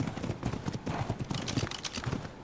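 Horse hooves in the video game Ark Survival Evolved, a quick run of clip-clopping footfalls in a steady trotting rhythm, close and clear with no talking.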